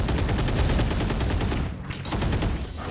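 Rapid gunfire in a competitive Valorant esports match, dense bursts of automatic shots in quick succession before a brief lull, then more firing.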